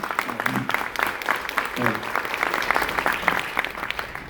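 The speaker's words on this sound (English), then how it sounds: "clap that up" Audience applause for a 20-year-old speaker introducing himself, steady clapping from a room of people, moderately loud, with a few voices mixed in.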